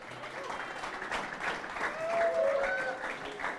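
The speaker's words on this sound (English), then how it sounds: "So big round of applause for her." An audience at a shootout tournament title match claps steadily for several seconds, a moderate crowd applause that swells slightly in the middle, with a few voices mixed underneath.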